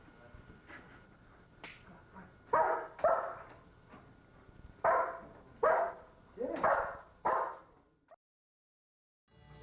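A dog gives a series of about six loud, close barks in an uneven rhythm, with fainter sounds before them and near silence after.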